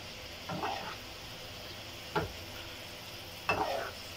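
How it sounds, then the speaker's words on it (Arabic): Meat being stirred and seared in ghee in a pot, with quiet steady sizzling broken by three sharp scraping strokes of a utensil against the pot. "هنفضل نشوح في اللحمه كده او نديها السمنه بتاعتها لحد ما تغير لونها"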